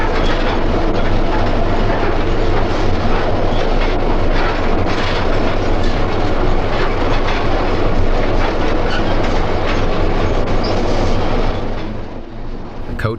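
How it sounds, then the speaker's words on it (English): A 1929 South Shore interurban railway coach rolls through rural northern Indiana in the late 1970s with a loud, steady rumble and rhythmic wheel clatter that holds throughout and eases slightly at the end, with no talking. "The 1929 coaches make all the right noises."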